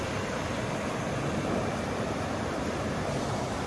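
Steady broadband rush of the Cedar River flowing, with constant water noise from start to finish and no voices.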